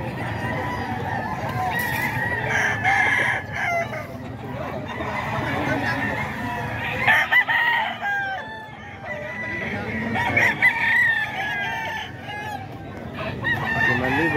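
A Gilmore Sweater gamecock about eight months old at a rooster farm in Bocaue, crowing repeatedly amid other fowl clucking nearby, with people talking over the birds throughout.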